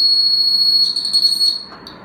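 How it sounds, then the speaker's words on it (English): An electronic buzzer wired to battery cells gives a loud, steady high-pitched tone. It warbles briefly near the middle, cuts out, and then chirps once more before fading. "You can use this to make a bell or alarm."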